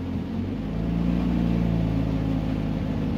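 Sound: Honda CRX engine revving when accelerator pedal is pressed

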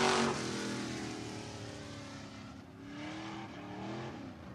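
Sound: race car (pure stock) on the track at All-Tech Raceway

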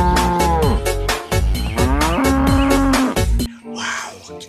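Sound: cow mooing

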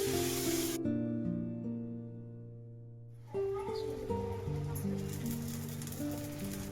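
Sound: dosa batter being spread on a pan

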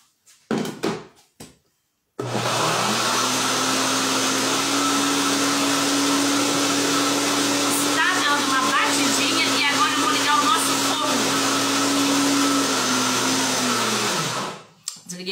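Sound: electric mixer beating bombocado batter

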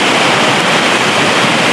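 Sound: waterfall in wild Karelia

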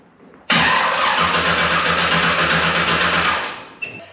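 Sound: hot rod car engine starting up

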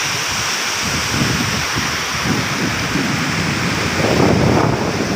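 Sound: river water flowing and swirling at a small waterfall

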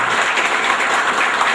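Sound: audience applause at a school get-together

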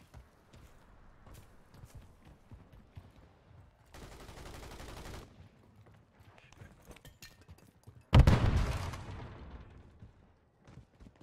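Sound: gunfire in Call of Duty video game

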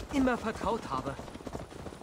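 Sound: horse hooves clip-clopping while riding in video game Assassin's Creed Valhalla

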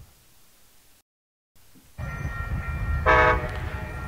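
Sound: manifest freight train arriving after crew change, horn

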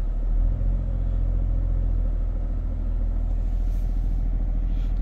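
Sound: Toyota hybrid engine revved in park to charge battery

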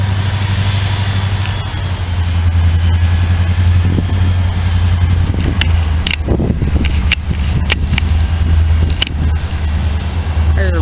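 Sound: switching locomotive engine idling

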